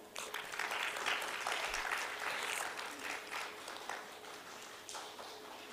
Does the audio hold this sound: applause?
yes